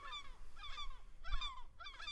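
Seagulls give four loud, harsh calls in a row, evenly spaced, each a quick sweeping cry of several syllables, with a low rumble of background noise underneath.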